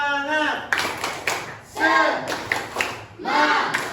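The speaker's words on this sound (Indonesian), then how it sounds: "Tepuk semangat." A classroom of students does a rhythmic spirit clap, sharp clap bursts alternating with shouted chanting from the group, loud and close.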